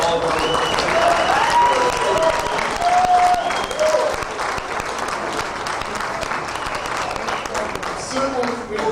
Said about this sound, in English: Please join me in a round of applause for all of our award recipients.